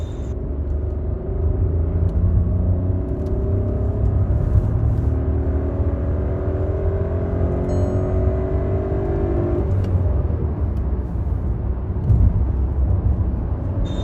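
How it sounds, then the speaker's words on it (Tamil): A VW Taigun with a 1-litre turbo three-cylinder engine on the move, heard as a steady low engine drone and road rumble with the pitch rising and falling, loud and constant throughout. "நம்ம ட்ரைவ் பண்ணிகிட்டு இருக்க இந்த 1 லிட்டர் டர்போ வந்து பார்த்திங்கன்னா நம்ம நினச்சதை விட பவர் வந்து சூப்பராகவே இருக்குது"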